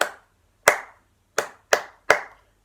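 Hand clapping a rhythm in a children's recorder lesson: five sharp, close claps, a single one then a pause, followed by a quicker group of four, each ringing briefly in a quiet room.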